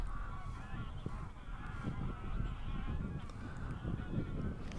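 Greylag geese honk repeatedly in a loose, overlapping chorus over a steady low rumble of outdoor ambience at a coastal high-tide wader roost, the calls moderately near and continuous throughout.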